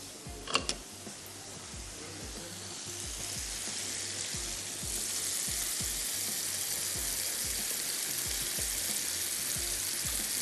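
Chicken sizzles steadily in a hot pan as sauces are poured over it, the frying hiss growing louder and denser partway through, with faint clinks early on.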